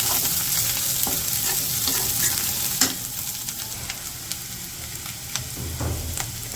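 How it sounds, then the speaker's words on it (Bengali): Onion and ginger-garlic paste frying in oil in a village kitchen, a steady close sizzle with repeated stirring scrapes and clicks of a spatula against the pan. "পেঁয়াজগুলো তো হালকা ভাজে নিচ্ছি, এখন হচ্ছে আদা রসুন বাটা দিয়ে দিই।"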